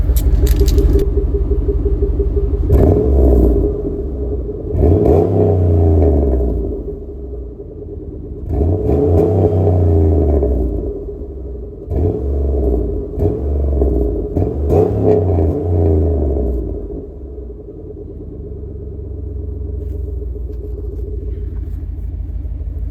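A Chevrolet Impala SS engine idles with a deep rumble and is revved repeatedly in several strong surges, each rising and falling back to a lumpy idle, heard close up.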